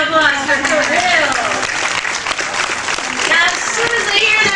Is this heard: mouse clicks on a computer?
no